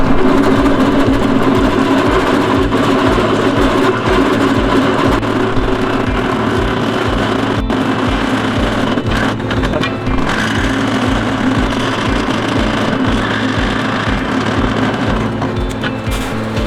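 A drill with a step bit bores holes through steel plates for a tractor three-point hitch, making a loud steady grinding chatter over a rumbling motor drone with no break.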